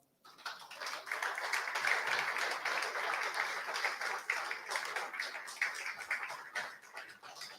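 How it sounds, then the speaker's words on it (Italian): Audience applause at a 25th twinning anniversary ceremony between Segusino and Saint-Jory, a steady broadband wash of clapping that swells quickly, holds for several seconds and tapers near the end. "un applauso."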